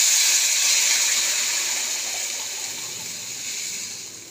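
Water is poured into a cooking pot in a home kitchen, a steady hissing gush that runs several seconds and slowly tapers off, heard close with no voices.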